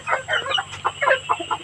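A chicken clucking close by in a short run of quick, choppy clucks with small gaps between them, loud and clear with no talk.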